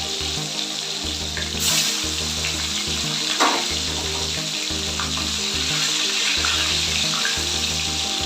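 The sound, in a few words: fresh pond fish frying in hot oil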